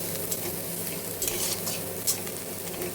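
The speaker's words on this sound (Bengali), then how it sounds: "এরপর পেঁয়াজ কুচি, রসুন কুচি দিয়ে লাল লাল করে ভেজে নিচ্ছি।" Chopped onion and garlic fry in hot oil in a pan for a rajma dal makhani, giving a steady, close sizzle with soft scraping stirs and a few sharper spoon clicks throughout.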